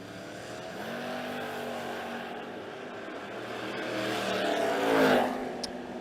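A Chevrolet Nova and a Camaro make a bracket drag race run at a drag strip. A steady engine roar swells and peaks as the cars pass, then fades.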